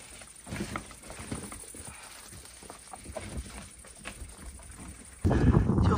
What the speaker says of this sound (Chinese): 就是风有点大哦